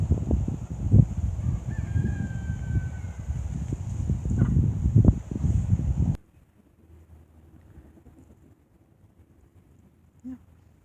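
Hens cluck and murmur close by over wind rumble for several seconds, then it drops to near quiet with one faint cluck later.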